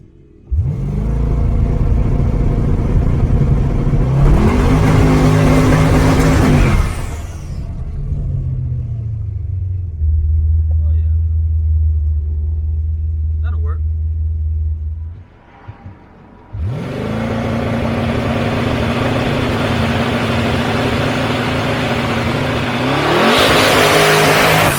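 A 1000 hp Ford Crown Vic on a transbrake roars at high revs, drops to a steady low rumble, then screams back up into another loud, sustained rev close by, with no talk.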